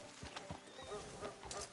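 A horse whinnies faintly while hooves clip-clop at a slow walk on a town street outside a sheriff's office in Red Dead Redemption 2, quiet and steady beneath low ambient game noise.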